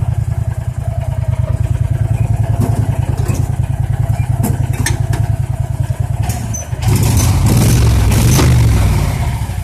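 A 2014 Landmaster LM650 go-kart engine runs close by with a rapid, low chugging idle, then surges louder and rougher for the final few seconds.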